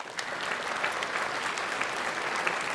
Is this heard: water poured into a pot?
no